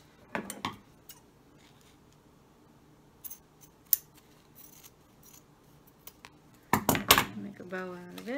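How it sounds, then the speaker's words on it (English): Close, crisp snips of scissors cutting ribbon, a quick pair of cuts at the start and a louder cluster near the end, with faint clicks and rustles between. "let's cut some of this cute ribbon"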